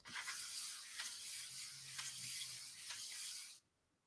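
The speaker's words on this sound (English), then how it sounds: "I kind of want to see what happens if I spray the paper" Paper being sprayed during a gelli plate art session: one steady, close hiss of spray that lasts about three and a half seconds and then stops abruptly.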